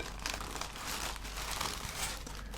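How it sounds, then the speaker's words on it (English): A Subway footlong sandwich's paper wrapper is crinkled and rustled close up. The crackling is steady and dense, soft and intimate, with no talking. "I'm going to listen to the sandwich wrapper paper"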